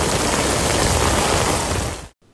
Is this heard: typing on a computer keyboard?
no